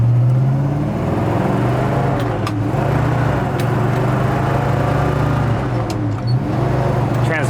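A 1966 Pontiac GTO under way, its engine droning steadily inside the cabin as it pulls and shifts through gears, with voices speaking over the drone.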